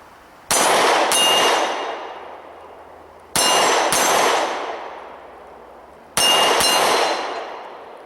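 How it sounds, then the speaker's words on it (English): Three pairs of sharp shots from an XD sub-compact 3-inch 9mm pistol, each pair ringing off steel targets with bright metallic clangs that decay over a second or two, at a steady outdoor range pace. "we're going to try some shots. We've got some steel over here"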